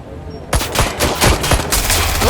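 Loud rapid gunfire erupts in Watch Dogs: Legion after a brief quiet moment, with closely spaced shots in a sustained burst and then a dense rattle that continues to the end.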